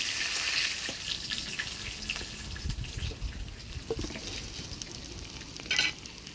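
Rita fish frying in hot oil, with a steady sizzling hiss, occasional stirring scrapes, and a brief louder crackle near the end.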